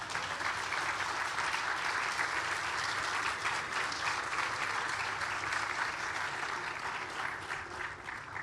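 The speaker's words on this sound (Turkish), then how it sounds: "Haliç 4 isimli teknemizi tekne alkışlanır mı? Vallahi alkışlanır." A crowd applauds at the launch event for the Haliç 4 sea-bus boat in Istanbul, an even, sustained wash of clapping from many hands, moderately distant and without speech.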